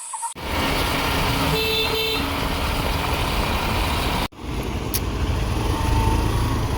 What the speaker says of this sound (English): So you have a bus.